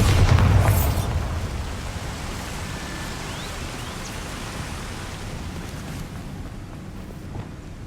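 A Bombarda spell in Hogwarts Legacy goes off as one loud, close explosive blast. It then fades into a long, hissing, rumbling tail that lingers at a lower level.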